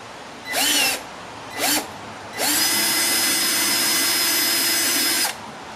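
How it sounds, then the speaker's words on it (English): Power drill boring a hole for a Perrin mud flap on a 2015 Subaru WRX, with two short high whining spurts followed by a sustained loud, steady drilling run, close by. "so we've got the first hole drilled"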